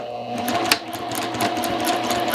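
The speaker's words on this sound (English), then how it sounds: "stitch along that curved side seam, 1/2 inch seam allowance" A sewing machine stitches a curved side seam on a slash pocket, a steady, close whirring hum with a light rapid needle patter and one brief knock partway through.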